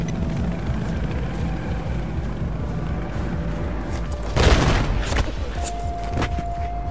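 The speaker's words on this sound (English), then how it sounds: "Yeah, I heard an explosion." In the video game Battlefield 4, a sudden explosive burst cuts through steady engine and rotor drone, followed by a lingering rumble and a tonal whine.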